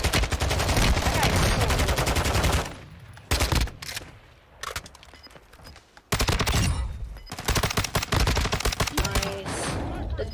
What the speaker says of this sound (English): I was just shooting through a bush, dude.